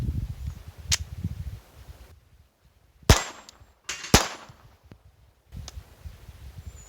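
Glock 44 pistol firing .22 LR rounds outdoors, with two loud, sharp reports about a second apart, a fainter crack before them, and quiet rustling in between.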